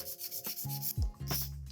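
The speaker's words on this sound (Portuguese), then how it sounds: "Vou utilizar esta lima 100-180 e vou começar por limar a zona lateral." A 100/180 grit nail file rubs back and forth along the sides of an almond-shaped acrylic nail, giving short, close, scratchy strokes in quick succession.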